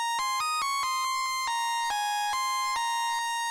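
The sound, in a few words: Desolate Solo synth lead from Purity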